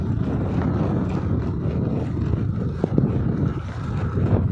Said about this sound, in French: Mais alors beaucoup de vent aujourd'hui. Beaucoup de vent.